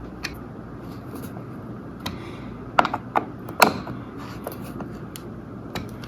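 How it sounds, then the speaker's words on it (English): Screws being driven back into an interior door hinge by hand, with scattered close clicks and ratcheting creaks, a brief cluster of sharper metallic ticks in the middle, over a quiet room. "We'll tighten the screws back up."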